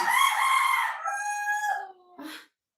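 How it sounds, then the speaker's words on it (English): A rooster crows close and loud, one long cock-a-doodle-doo with a drawn-out middle that tapers off and breaks into a short final note before silence. "What should I do to this chicken that is making noise?"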